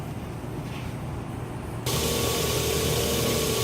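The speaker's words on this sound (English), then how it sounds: "I'm going to do some work on the grinder" Knife maker's grinder shaping a chef knife handle: a low motor hum steps up to a louder steady whine as grinding starts partway through, close and continuous.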